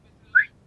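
A single short, bright whistle imitating a referee's whistle, made by a human voice or lips, standing alone against near-silence.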